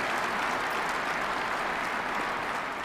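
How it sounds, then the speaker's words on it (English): Sustained applause fills a hall during Putin's State of the Nation address in Russia, a dense, steady wash of clapping from a large audience with no break. "His two-hour State of the Nation address splintered by applause and standing ovations"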